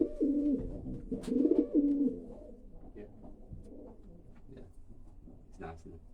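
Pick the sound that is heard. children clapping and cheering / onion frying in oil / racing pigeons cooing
racing pigeons cooing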